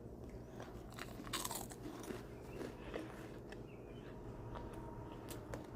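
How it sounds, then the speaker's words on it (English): Dry Cinnamon Toast Crunch cereal with vanilla cream filling crunched and chewed close up, a string of crisp bites followed by quieter, steady mastication with faint crackles. "Let me try one dry first."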